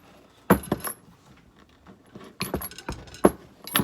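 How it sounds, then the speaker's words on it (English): Bolt cutter snapping through a chain link at the weld while the chain is fitted to a Duke 550 motorcycle, with several sharp metallic clacks and chain rattles in two bursts, close and loud with no talking. "I'm going to cut all the way through the chain."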